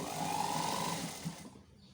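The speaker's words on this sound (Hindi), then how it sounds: "दूसरी सिलाई हम यहाँ लगा देंगे।" A sewing machine runs steadily as it stitches a second seam on cloth, holding an even whir for about a second before tapering off into quiet.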